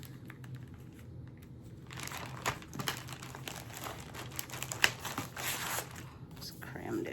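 Plastic bag crinkling and rustling as a cross-stitch project crammed inside is handled, irregular crackles close by at low level.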